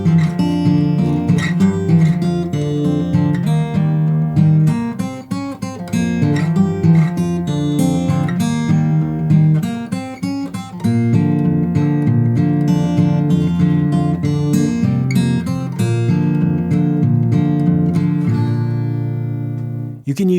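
Acoustic guitar fingerpicks a country blues arrangement of Going Down The Road, with a steady alternating bass under a melody line, played up close and continuously with no voices.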